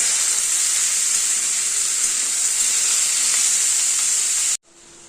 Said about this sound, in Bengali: সেগুলো ভাজা ভাজা করতে হবে